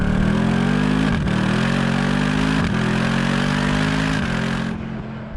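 A Mercedes-AMG SLS Black Series engine, with no turbos, roars through its exhaust, climbing in pitch in repeated pulls with brief dips between gear changes, close and sustained.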